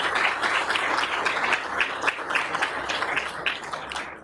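Sustained audience applause honoring Benazir Bhutto: dense, steady clapping from a crowd, loud and close, holding evenly for several seconds with no voices over it.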